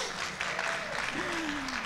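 A comedy show audience at a skeptics conference applauds steadily and fairly loudly, while someone speaks over the clapping.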